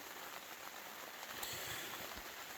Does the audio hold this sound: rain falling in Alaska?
yes